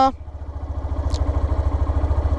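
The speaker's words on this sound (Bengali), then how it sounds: "নর্মালি যখন আমি বাইকটি স্টার্ট করলাম তখন সাউন্ডটা" A Hero Xtreme 125R motorcycle engine idles close by after starting, with a steady, even chugging pulse, after a short tonal sound at the very start.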